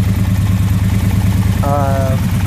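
A Kawasaki VN750 motorcycle with a coolant leak idles close by, a loud, steady low rumble that holds evenly for the whole moment, with a brief higher tone near the end.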